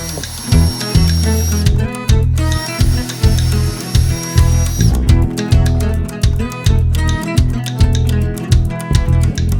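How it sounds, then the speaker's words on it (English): A power drill pre-drills holes in pressure-treated boards for 3-inch screws while building a garden planter box, running in loud repeated bursts with short pauses between holes, close and dominant with no talk. "I'm going to pre-drill my holes."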